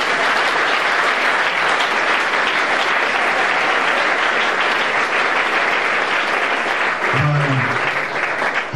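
Church congregation applauding and cheering in praise during an evangelical exhortation, a loud sustained wall of clapping throughout with a brief voice near the end.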